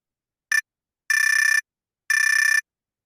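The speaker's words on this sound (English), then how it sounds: "When time has expired, a bell will ring," A timer bell at a political primary forum rings in three bursts, one very short and two longer, each a bright metallic trill separated by silence.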